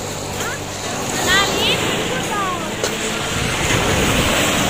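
Sea waves roll in at a beach on a rainy Sunday, a steady broadband surf wash with wind buffeting the microphone, while distant voices and faint chirps sit in the background.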